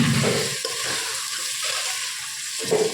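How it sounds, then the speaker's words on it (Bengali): Papaya and potato pieces fry lightly in hot oil in a pan, a steady close sizzle with brief stirring scrapes, heard alone without talk. "পেঁপে আলুটা তেলের মধ্যে হালকা করে ভাজা হয়েই এসেছে।"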